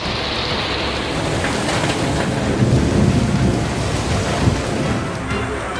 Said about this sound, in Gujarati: ઠેર ઠેર વરસાદ પડી રહ્યો છે